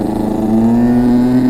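Yamaha scooter with a loud Yasuni C10 aftermarket exhaust, its engine droning steadily close by with a rising, sustained tone as it is revved.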